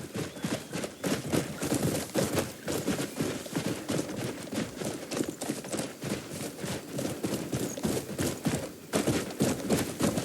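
Horse hooves clip-clop at a steady walking pace in the video game Crimson Desert. The sound is close and continuous, with brisk, even strikes running through the whole stretch and no talk over it.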